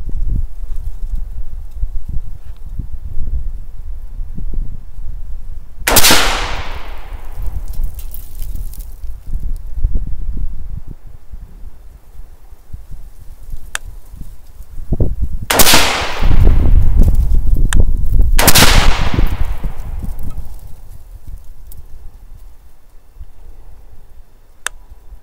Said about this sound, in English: I'm going to shoot dead center on that one.